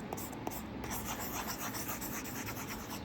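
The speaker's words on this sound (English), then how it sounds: "the writing is pretty intuitive, and it feels so like paper. Can you listen to the sound?" Stylus gliding over the matte screen of a Boox Go 10.3 e-ink tablet, a soft, papery scratching with short strokes repeating close and quiet, with no voice over it.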